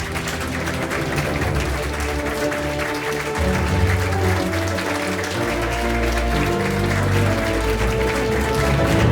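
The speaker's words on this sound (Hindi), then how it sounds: "Please give a round of applause for our eminent panelists" Audience at an education conclave applauding the panelists, sustained clapping from a large crowd that stays fairly even and swells slightly toward the end, with music or amplified sound faintly underneath.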